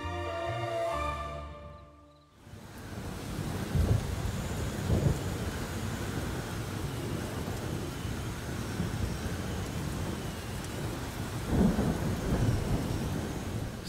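Rain and thunder over the Alhambra in Granada, heard from the Lindaraja courtyard: a steady wash of heavy rain with deep thunder rumbling and swelling through it, after a short stretch of tonal music fades out at the start.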